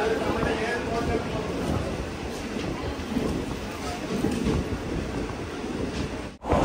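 A general-class passenger train between Guruvayur and Ernakulam rumbles along in monsoon weather, a continuous close rolling roar with a voice talking over it.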